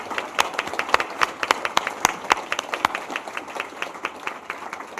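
Audience applause after a literary talk by Colm Tóibín, a steady patter of many hands with sharp individual claps standing out near the front, sustained for the whole stretch.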